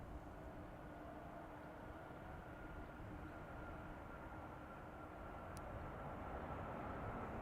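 An airplane takes off from runway 28 at Zurich Airport, heard as a steady distant engine roar that swells slightly toward the end, with no talk.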